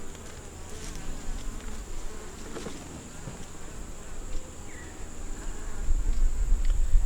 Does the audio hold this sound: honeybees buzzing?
yes